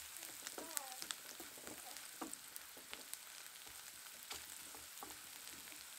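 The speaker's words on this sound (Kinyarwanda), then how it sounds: "Ari nako tugenda dukaranga kugira nabyo bitaza gushirira." Onions fry in a pan with a steady, soft sizzle and occasional scrapes and clicks of stirring, heard alone at low volume.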